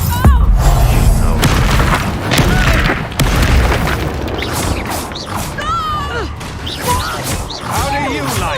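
Confringo fire spell blasting in Hogwarts Legacy combat, a loud booming explosion and crashing impacts with whooshing magical effects, under a lively game mix with voices throughout.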